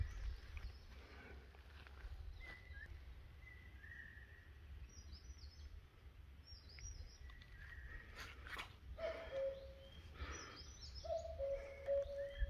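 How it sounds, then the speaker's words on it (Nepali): Faint, sparse bird chirps and short whistled calls in a hillside pine forest, scattered over a quiet low background hum, growing a little more frequent toward the end. "यो चराचुरुङ्गीको आवाज एकदमै मिठो क्या"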